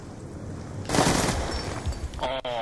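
Rapid video game gunfire in a competitive MLG doubles match, a loud sustained burst of shots lasting under two seconds, with a brief quieter tail.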